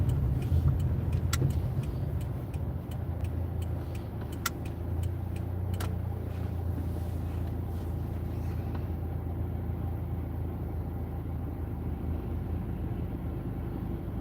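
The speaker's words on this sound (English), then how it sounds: "it's a little intense traffic driving stuff here" A car driving through heavy traffic, with a low steady engine and road rumble from inside the cabin and a run of sharp ticking clicks in the first half, without speech.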